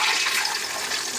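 Onions dropped into hot oil for fried rice give a loud, steady broadband sizzle that hisses evenly throughout, close by with no voices.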